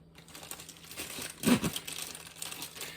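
Crinkly plastic rustling and crackling close by, with a louder burst of crumpling in the middle, like a bag being handled and pulled at.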